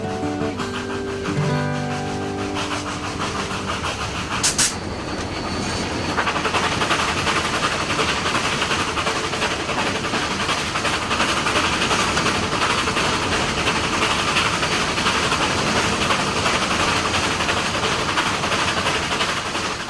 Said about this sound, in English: The clicking of the wheels on the rail, the gentle pitching of the cars had a hypnotic effect